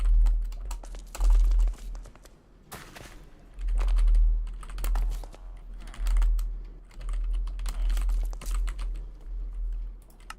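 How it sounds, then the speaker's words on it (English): Loud computer keyboard typing clatters close up in irregular bursts of rapid keystrokes with short pauses between them. "X15XC says Brayden's keyboard is loud."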